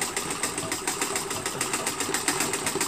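Treadle sewing machine stitching down the edge of a patriot quilt, running steadily with a fast, even mechanical clatter and rhythmic pulsing throughout, fairly close and alone without talk.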